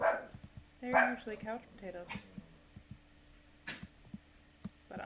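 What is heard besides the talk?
dogs barking while playing in the background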